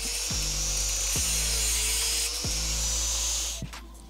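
A power tool cuts through metal radiator mounting brackets during an intercooler install, a loud, steady, high whine that runs for a few seconds with faint periodic knocks and then stops.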